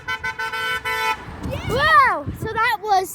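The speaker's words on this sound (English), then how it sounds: "Honk for Ukraine!" Car horns honking at a roadside rally in support of Ukraine, a short burst of repeated toots followed by a pitch-bending sweep and a closing trill, with voices and traffic around it.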